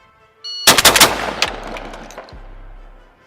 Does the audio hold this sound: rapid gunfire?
yes